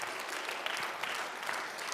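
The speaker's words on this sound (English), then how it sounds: "Yes, you can give an applause" An audience applauds at a panel discussion during an international chamber choir competition, a steady wash of clapping held for a couple of seconds with no voices over it.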